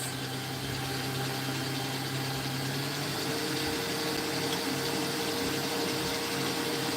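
An electric mixer creams butter and sugar for a vanilla cake batter, giving a steady, close whirring hum that runs unbroken throughout with no talking.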